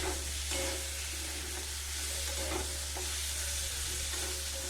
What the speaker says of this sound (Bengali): এই পেঁয়াজের সাথেই ভাজা হয়ে যাবে